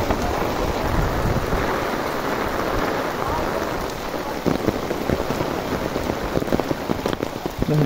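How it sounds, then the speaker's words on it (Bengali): Heavy rain pours down in a thunderstorm, a dense, loud, continuous roar of drops on surfaces with low rumbling underneath, growing more uneven and spattery toward the end. "কি বৃষ্টি, প্রচণ্ড বৃষ্টি হচ্ছে।"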